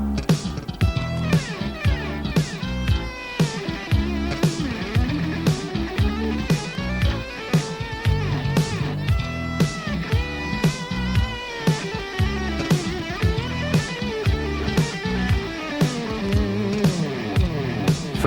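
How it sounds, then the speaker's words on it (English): Guitar played through a TC 2290 digital delay whose dynamic function ducks the echoes while notes are played, heard over a driving band with drums and bass, a full, continuous mix throughout. "It's an effect that automatically diminishes the echo that's causing the mess."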